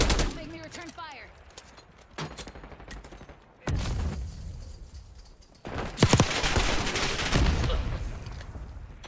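Gunfire in Black Ops 6, with bursts of rapid shots and sharp reports breaking out in clusters around a louder stretch of sustained fire, close and loud over game noise.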